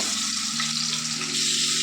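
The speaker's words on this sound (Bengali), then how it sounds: "তেলটাকে ভালোভাবে গরম করে নিয়ে মাছগুলো সব আমি দিয়ে দিয়েছি" Silver carp pieces sizzle loudly in hot oil in a pan, a steady, dense frying hiss with no voices.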